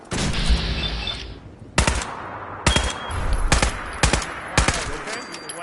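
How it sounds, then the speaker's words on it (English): Gunfire from the video game Fallout 4 during a fight with a super mutant: an opening burst of rapid automatic fire, then a string of loud, sharp single shots spaced about a second apart, each with a short ringing tail. "Make every shot count!"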